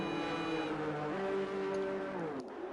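A McLaren race car in a racing video game pulls out with a steady engine drone whose pitch shifts as it changes gear, fading slightly at the end.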